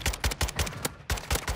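Dragunov marksman rifle shots in a shooter video game crack out in quick, sharp bursts, several evenly spaced reports, then a brief pause before a fresh string of loud, close shots.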